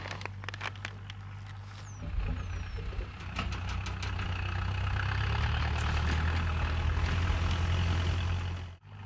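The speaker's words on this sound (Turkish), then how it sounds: "Hiçliğin ortasında az önce yanından traktör geçti." A tractor engine rumbles past in open countryside, its low drone rising and holding steady before fading at the end, with a few sharp knocks early on.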